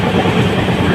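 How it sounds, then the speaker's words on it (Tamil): An express train runs on a main line at night, a steady loud rumble of wheels on rails with a continuous clatter and no voices. "இந்த இருட்டு இந்த ட்ரெயினோட சதத்தை கேட்டே ஜாலியாக போகிறாங்க."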